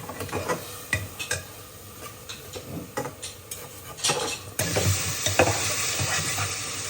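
Desi chicken frying in its released oil in a pot, with loud sizzling, irregular scraping stirs and metal utensil clinks against the pan, growing into a denser sizzle toward the end, no speech.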